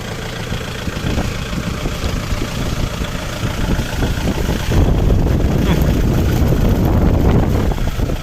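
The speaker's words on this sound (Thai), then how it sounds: "ไม่รอดครับว้า ทั้งฝนทั้งลมเลยครับ" Strong wind buffeting the microphone with a steady roar while ploughing a field, intensifying partway through, heavy rain blending into the rushing noise.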